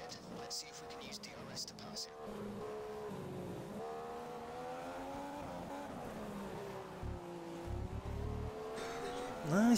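A Formula 1 race car in F1 2015 at the Chinese Grand Prix, its engine droning steadily with pitch rising and falling as it revs and brakes, plus a brief tire scrub near the end, while a voice talks over it.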